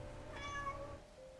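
A pet cat named Blitz gives a single drawn-out meow, clear and fairly close, rising then falling over about half a second against quiet room hum.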